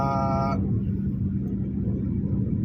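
A vehicle engine runs steadily while driving, a low continuous rumble with no distinct gear changes, preceded by a brief harmonic tone at the start.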